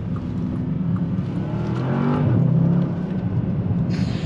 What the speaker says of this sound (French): Là on va pouvoir faire une petite accélération.